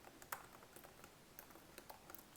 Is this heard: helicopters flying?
no